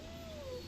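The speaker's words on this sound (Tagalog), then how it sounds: "Ayan, yung pusa na ampon" A stray cat waiting to be fed gives a single short, falling meow, fairly close and moderately quiet against low background noise.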